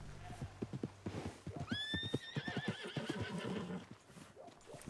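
A horse in Red Dead Redemption 2 gives a shrill rising whinny that shudders downward, with hoof clops and someone talking over the game sound around it.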